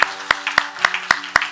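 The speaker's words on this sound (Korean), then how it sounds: "박수 뜨겁게 하겠습니다." In a Sunday morning church service, a few people clap in a slow, even rhythm, about six distinct claps close by, with a faint steady hum underneath.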